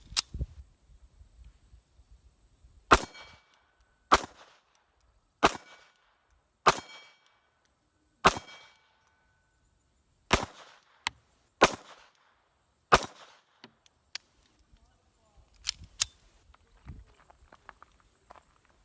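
A 1917 Colt Model 1903 pistol in .32 ACP fires about ten sharp, loud shots at a range, spaced roughly one to one and a half seconds apart, with fainter clicks and clatter in between.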